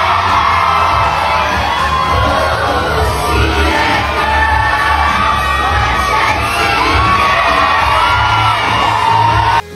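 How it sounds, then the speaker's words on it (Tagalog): A crowd at a Sunday night party screams, whoops and cheers loudly and continuously for a woman dancing, a dense wall of excited voices that holds for the whole stretch and cuts off abruptly at the end. "Grabe ang hiyawan ng tinudo na ni Bea Alonso ang pagsayaw"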